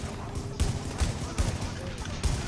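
Suppressive gunfire in the Dark Zone of a shooter video game, loud repeated shots in irregular bursts and thumps, with talking underneath at moments.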